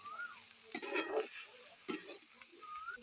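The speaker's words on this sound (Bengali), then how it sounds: "আবার নেড়ে দিলাম ভালো করে" A spoon stirs food in a pan that is already frying with chilli powder, giving a couple of soft scraping strokes over a steady low sizzle, close and moderately quiet.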